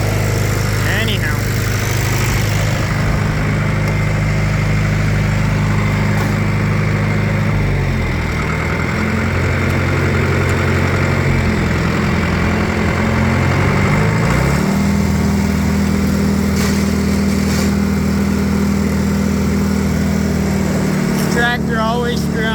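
A John Deere 7420 tractor engine idling steadily nearby, with a low rumbling drone that shifts pitch partway through and a rougher grinding edge; a voice can be heard speaking faintly in the background.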